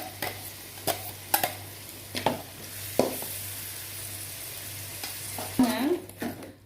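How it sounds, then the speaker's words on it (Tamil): A paste of ground coconut and tomato sautés in oil in a pan for an egg gravy, giving a steady close sizzle broken by scraping knocks of stirring, with no voices. "இது நல்லா கொஞ்சம் எண்ணெயில் வந்துட்டு இந்த தேங்காய் இந்த தக்காளியும் வதங்குற அளவுக்கு அந்த பச்சை வாசனை போகணும் அது வரைக்கும் கொஞ்சம் லைட்டாக வதக்கிக்கலாம்"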